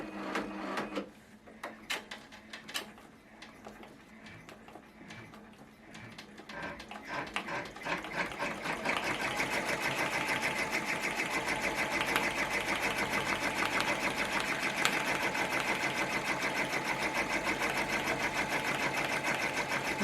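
A Brother embroidery machine stitches a green satin stitch on a cap, starting with quieter scattered ticks before settling into a loud, steady, fast mechanical rattle that runs without a break.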